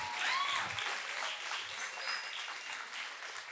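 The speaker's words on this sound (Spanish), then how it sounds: "fuerte su aplauso" An audience in a church talk applauds with dense, continuous clapping that stays fairly faint and steady throughout.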